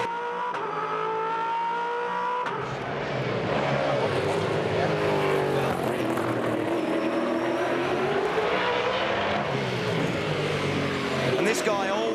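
V8 Supercar driven hard around a race track, a loud continuous engine roar rising and falling through corners and gear changes, close and steady throughout.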